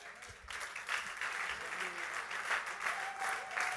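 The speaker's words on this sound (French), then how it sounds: "Est-ce que ce matin, on peut juste un moment acclamer Jésus-Christ?" Church congregation clapping and cheering for Jesus Christ during a sermon on Noah's ark, a steady, dense wash of applause with voices mixed in throughout.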